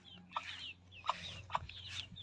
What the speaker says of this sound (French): vous voyez, le coq, ses poules, 3 poules sont dehors